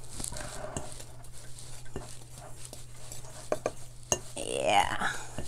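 Cookie dough with butter being mixed in a bowl: soft repeated scraping and stirring with occasional sharp utensil clicks against the bowl, under a faint steady hum, with a brief swishing swell near the end.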